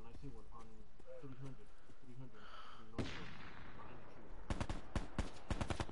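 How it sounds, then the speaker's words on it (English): Sniper rifle fire in an online shooter video game: a sharp, loud crack around the midpoint, then a quick burst of several more shots near the end, with voices talking over the action. "I heard a sniper"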